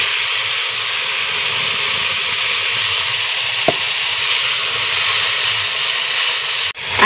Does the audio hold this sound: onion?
yes